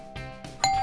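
A doorbell rings at a play fort funhouse, a clear two-tone ding-dong chime that is close and fairly loud, with no talk over it.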